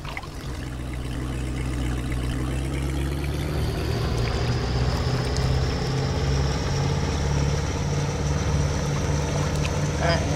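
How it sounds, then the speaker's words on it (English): Outboard boat engine running steadily in the video game Russian Fishing 4 on a lake, a continuous loud droning motor hum with rising whine and water wash throughout. "let's go ahead and get the engine started here"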